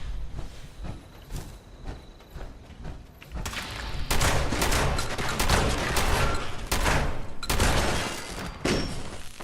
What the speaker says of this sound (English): Still getting shot at.